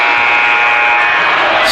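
A basketball game buzzer sounds at the end of the half in a women's college tournament game between Defiance and Mount St. Joseph, one loud sustained electronic tone filling the whole moment up close.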